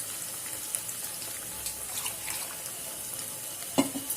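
Water being poured into a mixer jar of ground masala for paneer butter masala, a soft, steady trickle in a quiet kitchen with a brief clink near the end.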